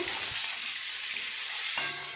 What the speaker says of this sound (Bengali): এইরকম সুন্দর করে লাল লাল করে ভেজে নেব